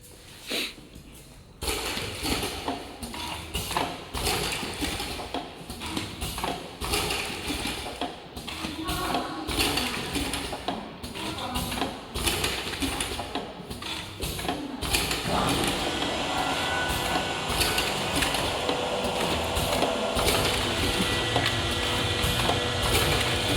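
An automatic liquid sachet packing machine runs a water test with continuous clattering mechanical motion, repetitive clicks and creaks at moderate level, growing slightly denser and louder partway through.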